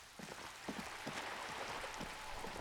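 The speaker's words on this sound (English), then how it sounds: "It is raining." Steady rain falls in the Disco Elysium video game, a constant broadband patter with soft scattered drops. It holds at an even level throughout and no one speaks.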